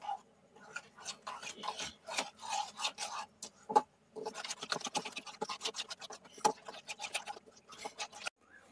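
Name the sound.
mixing yogurt with spices for chicken kosha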